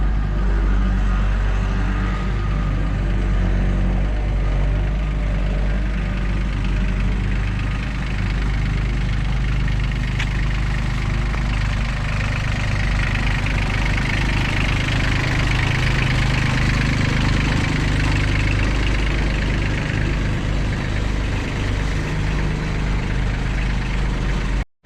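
A tractor engine idles steadily at close range, a continuous low rumble with a faint knocking pulse, running alone without talk while a driveway drag is hooked up behind it.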